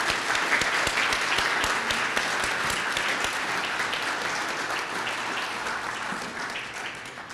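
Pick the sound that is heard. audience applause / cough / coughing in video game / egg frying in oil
audience applause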